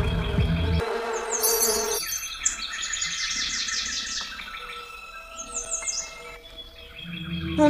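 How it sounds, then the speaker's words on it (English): Predatory mushroom bees in the video game Legendary Tales 3 buzz steadily and loudly for several seconds, joined by chirping birdlike game effects and background music. "Oh, predatory mushroom bees!"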